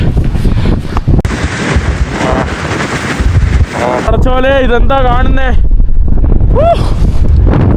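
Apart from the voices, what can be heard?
strong wind blowing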